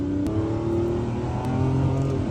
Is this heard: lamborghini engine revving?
yes